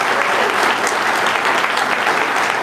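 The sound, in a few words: audience applause for event organizers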